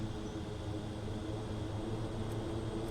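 A propeller aircraft taxiing on a runway in a flight simulator, with a steady droning engine hum and faint whooshing noise holding at an even, moderate level throughout.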